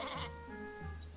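Sheep bleating in a video game, a single drawn-out wavering bleat heard close and fairly loud, with no speech.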